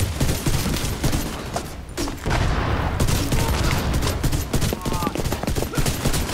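Shotgun fire in The Division 2 during an Iron Horse raid run, with dense, loud, repeated blasts and rattling gunfire in steady bursts, mixed with other combat noise and some voices talking underneath.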